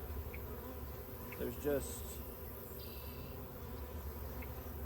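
Honeybees buzz inside a hive in a steady, low, continuous drone, close and moderately loud, with a few brief words spoken over it.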